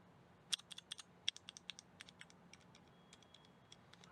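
Quick, clicky keystrokes on a Keychron K4 V2 mechanical keyboard with green switches tap out an irregular run, sharp and fairly close, with a few louder clacks early on and quieter presses trailing off.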